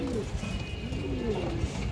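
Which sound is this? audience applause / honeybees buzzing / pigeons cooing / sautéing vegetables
pigeons cooing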